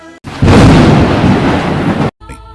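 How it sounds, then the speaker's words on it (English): Parcel bomb exploding when opened, a loud sustained blast with a rumbling, thunder-like roar lasting under two seconds, framed by brief quieter tonal sounds before and after. "The moment he opened it, the device exploded."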